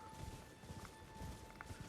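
The Knight's Cavalry horse in Elden Ring clops along with rapid, faint hoofbeats in a steady galloping rhythm over a hissy game background.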